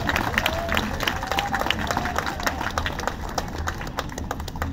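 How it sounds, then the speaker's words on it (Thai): Crowd at an outdoor political gathering in Thailand applauding and cheering for people prosecuted in political cases, a dense continuous wash of clapping with voices mixed through it. "ขอเสียงปรบมือให้ภัยนะครับ"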